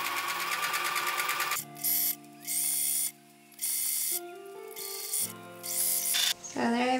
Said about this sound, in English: So I'm going to choose a straight stitch for my basting stitch, and then I'm going to take it up to the highest setting,